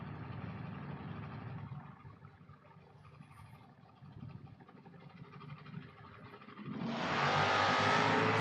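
An '86 Camaro and another drag race car at a spring drag racing event, engines idling and rumbling loudly, then a sharp surge into a roaring, hissing launch near the end.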